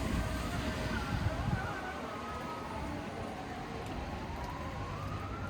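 An ambulance siren wails, rising and falling in the distance over a dense, steady rumble of city street traffic in Turkey on May Day.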